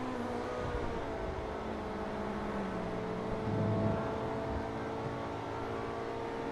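A modified Invetro Coquette D10 sports car in GTA Online accelerating hard at high speed, its engine a loud, steady droning roar with rising and shifting tones and a brief surge in the middle.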